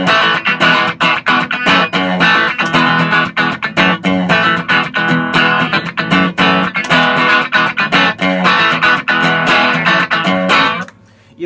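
An electric guitar plays a rhythmic, chord-heavy riff through a T-Rex distortion pedal switched off, loud and close with sharp strummed attacks, ending in a brief pause near the close.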